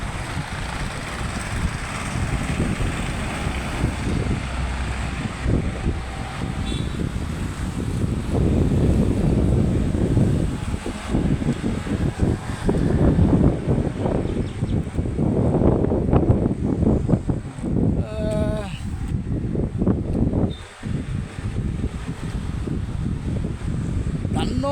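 Cool wind blows across an open, breezy spot, a steady low rumble and buffeting that swells and fades for the whole stretch, with a voice talking beneath it.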